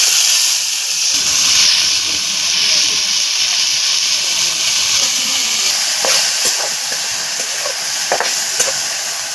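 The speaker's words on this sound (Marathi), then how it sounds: "तेल ओतून घेते आता." Oil is poured into a hot pan while cooking a traditional vegetable dish, giving a loud, steady hiss and sizzle with occasional sharper crackles close by.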